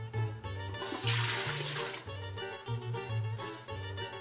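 Water poured into a cooking pot in a kitchen while preparing a Bulgarian cabbage soup with leeks, a steady splashing, gurgling pour running continuously for several seconds, close and fairly loud.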